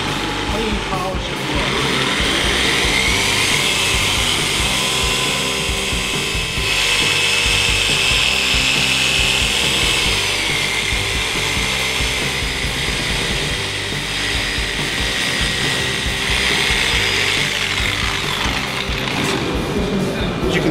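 A machine polisher works SONAX Perfect Finish polish into the paint of a classic car, a steady, loud, whirring hum that holds without a break for the whole stretch.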